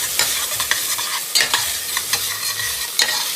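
Red coconut curry soup ingredients with sauce stirred and frying in a pot, a steady sizzle broken by regular scraping spoon strokes, close and moderately loud, no talk.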